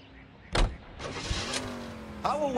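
A car pulls up with its engine idling steadily at close range, punctuated by a sharp thump and a few brief bursts of noise, with a faint voice near the end.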